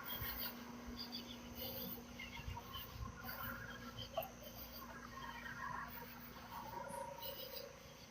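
Crickets chirp outside in a faint, steady background, with soft scattered calls over a low hum and no one speaking.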